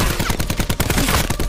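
Gunshots in the Call of Duty Blackout battle royale game, a rapid, loud automatic burst of closely spaced cracks running without a break for the whole short moment.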